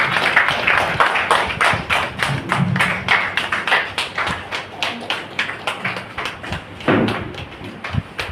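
Steady rhythmic clapping from an audience at an RCM business seminar, a brisk even beat of claps running throughout, with a voice speaking over it.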